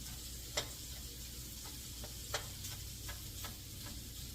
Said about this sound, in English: And just kind of break the rice up.